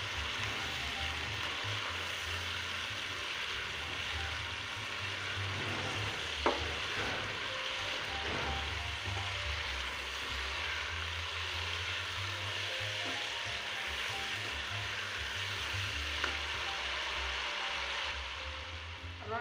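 Two pieces of cinnamon and four cardamom pods fry in hot oil in a pot for Irani biryani, giving a steady close sizzle throughout with a few faint stirring knocks.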